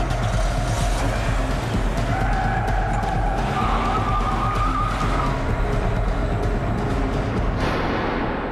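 A car flees the scene with a steady, loud low engine rumble and road noise that continues unbroken throughout, with a faint tonal whine riding on top.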